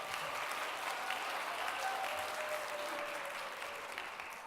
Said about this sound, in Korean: 따뜻한 격려의 박수로 환영해 주시기 바랍니다.